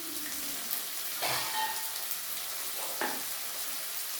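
A Bengali fish curry with potatoes simmering as ground coriander, pepper and cumin paste fries in a pan, a steady soft sizzle with a few brief stirring scrapes, close and alone.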